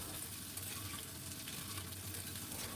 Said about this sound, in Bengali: আলুগুলোকে বেশ কড়া করে একটু লাল লাল করে ভেজে নেব